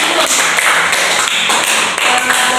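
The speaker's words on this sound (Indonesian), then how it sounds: "Berikan aplaus untuk kelompok 1." A classroom group claps after a presentation in a microteaching lesson, a dense, loud burst of applause lasting a few seconds with no talk.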